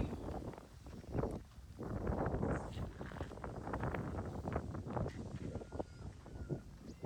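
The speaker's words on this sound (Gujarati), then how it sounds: "પવન." Gusty wind buffeting the microphone in uneven low rumbling bursts, loud and close, with no talking.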